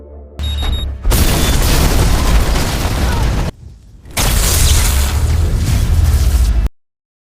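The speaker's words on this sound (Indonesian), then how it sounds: "akhirnya meledakkan bom" A bomb going off in an action film about a deadly robot: loud, dense booming blasts with a whoosh, a brief drop to near silence, then a second heavy roaring burst before cutting out.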